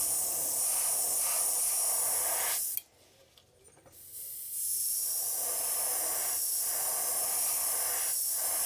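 A close airbrush sprays paint onto a crankbait fishing lure in a steady hiss, stops briefly, then resumes with the same continuous hissing.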